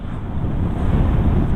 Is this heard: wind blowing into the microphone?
yes